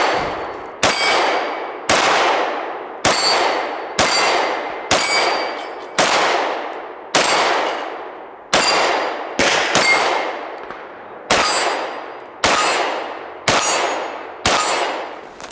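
Fifteen 9mm rounds from an H&K P30L pistol with an LEM trigger strike steel targets, each loud close shot ringing with a metallic clang that decays before the next, spaced roughly a second apart.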